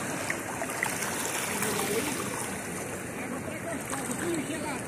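Cold stream water rushes steadily around a person bathing in a creek, a continuous broadband wash with no break.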